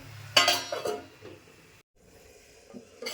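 A lid clatters onto a metal pan of cooking potatoes on a home stove, giving a sharp clink followed by a brief rattle as it settles, then a quiet lull and another faint kitchen knock.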